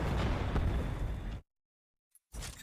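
A grenade explosion in Titanfall 2 gives a loud, broad blast and rumble that cuts off abruptly into silence, followed by another burst of noise.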